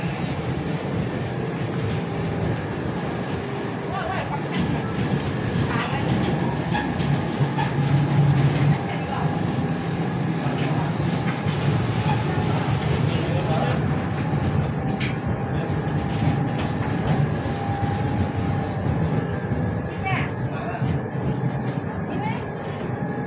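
A train runs along the railway line far below the Baiyoke Sky Hotel in Bangkok, a steady rumbling rail noise mixed with city traffic and heard from high above, while a person talks over it.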